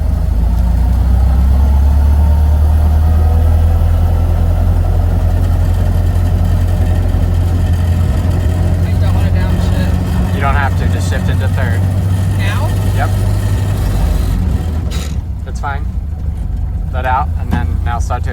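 A Model A Ford engine runs steadily while the car pulls out onto a main road, a loud low continuous drone throughout, with people talking over it and a brief dip near the end.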